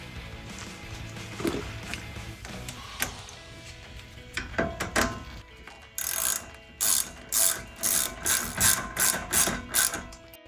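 Ratchet wrench clicking as it tightens brake caliper bolts on a 2015-2023 Mustang EcoBoost, close and loud, with scattered handling clatter at first, then a steady run of rapid ratchet bursts in even strokes.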